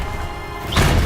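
A Defendo spell cast in Hogwarts Legacy: a short muffled magical thud, then a sudden loud whooshing burst of impact near the end.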